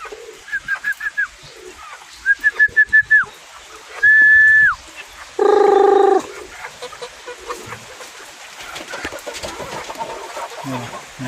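Pigeons coo in long, low, steady phrases among clucking chickens in a mixed backyard flock of breeder birds, with short repeated clucks and calls up close and faint activity continuing afterward.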